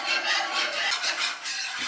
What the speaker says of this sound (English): I'm going to whisk this until it starts to thicken